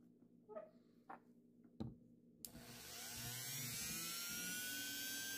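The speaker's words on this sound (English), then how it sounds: "I decided to take the Dremel and just kind of cut that little groove to be a little bit bigger" A Dremel rotary tool cuts a groove in a diecast model, an Ertl 1932 Ford Street Rod. A few soft clicks and taps come first, then the tool spins up into a high, steady whine that keeps rising in pitch to the end.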